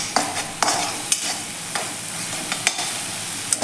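Pea curry frying in a pan and being stirred with salt, with a steady sizzle and occasional scraping knocks of the spoon against the pan, heard close with no talking.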